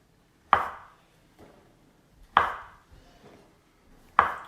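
A knife chops through a tomato on a board in three sharp, close strokes spaced about two seconds apart, with faint handling noises in between.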